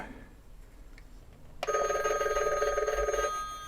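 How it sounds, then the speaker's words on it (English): A limited-edition Disney Mickey Mouse animated telephone rings with a loud, steady electronic bell tone. The ringing starts abruptly partway through and continues alone at close range. "Oh boy, a phone call."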